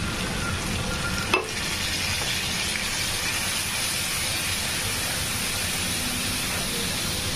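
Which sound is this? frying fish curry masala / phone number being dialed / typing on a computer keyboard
frying fish curry masala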